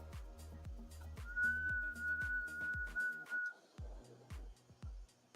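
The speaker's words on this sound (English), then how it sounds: "I think we're going to get a good whistle" A hot blown glass piece gives off a thin, steady high whistle lasting about two seconds, faint and close, over a rhythmic low thumping and workshop noise.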